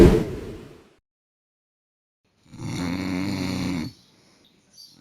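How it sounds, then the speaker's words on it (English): One loud, close snore from a sleeping person, a rough rasping breath lasting over a second, after a fading earlier sound and before a short faint tail. "Snore."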